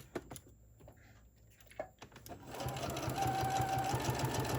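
Sewing machine stitching fabric for drawstring Santa bags, starting with a few short bursts and then running in a steady, close whir for the rest of the moment.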